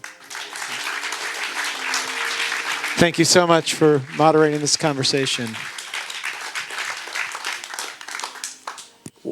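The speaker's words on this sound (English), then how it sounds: "One more round of applause for Léa." Steady audience applause at a film Q&A session fills the whole stretch, with a person speaking over it midway as the clapping continues evenly around the voice.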